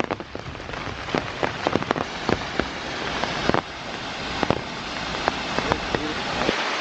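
Steady rain falling through forest in the Sages Ravine section of the Appalachian Trail, a continuous wash of drops with many sharp nearby drips and taps pattering on leaves and surfaces throughout.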